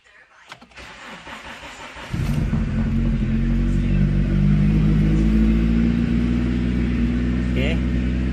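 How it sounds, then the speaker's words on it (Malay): A car engine with a carburetor being adjusted cranks and fires about two seconds in, then settles into a loud, steady idle that runs to the end, close to the listener. "Okay, saya akan cuba hidupkan kereta ni."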